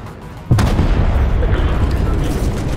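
A single deep, booming grenade blast goes off in Fortnite, a sharp thud followed by a rumbling tail that lingers loud and close for a couple of seconds.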